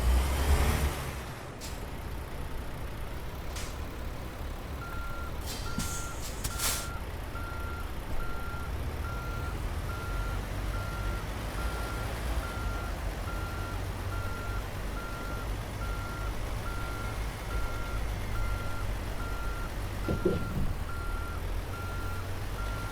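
A Peterbilt truck backs in during American Truck Simulator, its reversing alarm beeping in an even, repeating rhythm over a low idling engine rumble, moderately loud and steady, with no talk.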